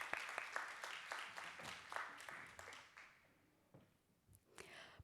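An audience at a youth water-engagement session claps in a burst of applause that fades over a few seconds, with a short patter of claps near the end and no voices.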